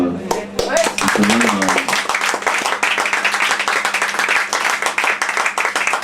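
Dense applause from a crowd builds quickly after a brief spoken moment and continues steadily, loud and close.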